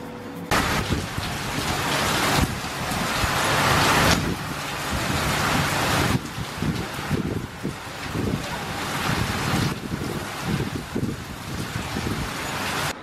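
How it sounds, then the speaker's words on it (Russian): A heavy tropical downpour roars outside a window during a thunderstorm, a loud, dense, continuous wash of rain that surges and eases in waves, with no talking. "У меня сейчас за окном бушует настоящий ливень. Тропический ливень."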